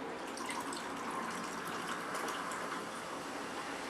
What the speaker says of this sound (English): you top all this off with some unflavored sparkling water